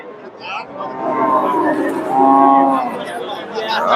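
A Friesian cross Jersey dairy cow lows with a long, drawn-out moo at a busy cattle market, close and loud over the chatter of the surrounding crowd.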